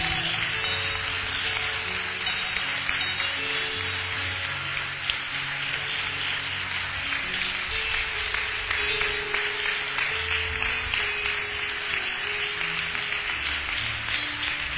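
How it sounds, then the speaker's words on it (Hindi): A church congregation claps vigorously during a pastor's sermon, a continuous wash of applause layered over sustained keyboard or organ tones. "जोरदार तालियां बजाएंगे"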